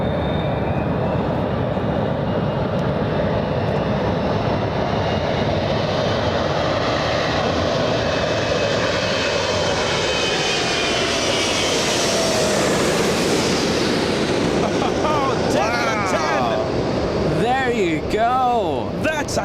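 A large airliner passes overhead on approach to land on runway 24 left at LAX, its engine roar loud and continuous, swelling and shifting in pitch as it goes by, with people talking in the background.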